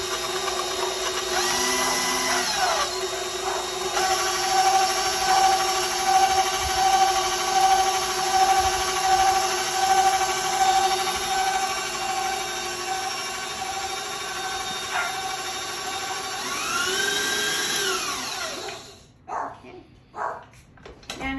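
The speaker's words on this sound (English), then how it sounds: "You can do this with just a handy electric mixer" An electric hand mixer runs with a steady, loud whine as it blends flour into oatmeal cookie dough. It hums for about eighteen seconds, its pitch shifting briefly, then cuts off, followed by a few soft knocks.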